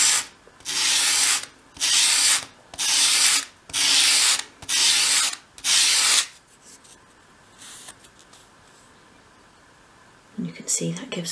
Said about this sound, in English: with your sandpaper flat on your work surface, hold the piece at a 45 degree angle and sweep it towards you